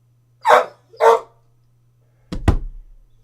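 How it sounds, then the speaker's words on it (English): A dog barks two sharp barks up close, then after a pause gives a thumping, muffled bark-like burst, loud and with no talk over it. "he just barked in my face"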